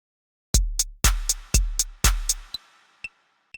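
A looping drum beat programmed in Soundtrap, with kick, snare and hi-hat, plays four even bars of deep kick thumps and crisp snare and hat hits, then a few lone hat ticks trail off into silence.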